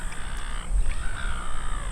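A seagull outdoors near a fish and chips shop gives a few harsh squawking calls, fairly close, over light background noise.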